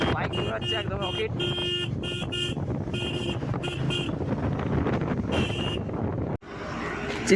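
A motorcycle speeds along a cold mountain road near Chitkul village by the Indo-China border, with steady roaring engine and wind rush, high horn-like tones in bursts, and a brief dropout near the end.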